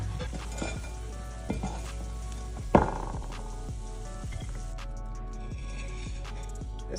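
Food in a covered pan cooking over a low flame gives a steady, soft sizzle and crackle, with one sharper clink of the lid or a utensil partway through and no talking.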